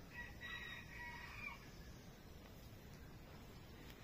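A rooster crows faintly in the distance, with a hen and another rooster nearby, over a low steady background hum.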